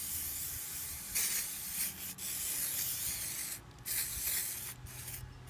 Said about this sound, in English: the best thing we could use here is WD-40. Just to give this thing a good spray